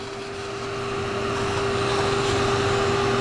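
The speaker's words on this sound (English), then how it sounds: "We're gonna do the old hose on the shop vac trick and get all that sucked up." A shop vac sucking liquid through a hose in a garage during a Pontiac Trans Am engine swap, a steady loud motor drone with a constant whine that rises slightly in volume.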